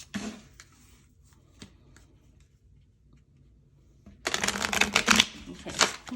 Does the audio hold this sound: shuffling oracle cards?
yes